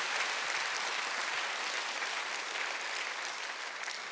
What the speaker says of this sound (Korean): 위대한 인물을 박수 세게 쳐세요.